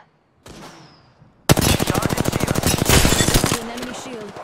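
Apex Legends gunfire bursts in rapid automatic volleys, loud and close, after a quieter opening, with a game voice speaking over the final stretch.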